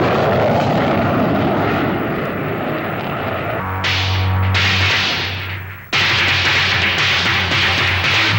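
An aircraft passes overhead with a loud, steady engine roar and a low droning hum that swells, drops off briefly, then surges back at full strength, with no voices.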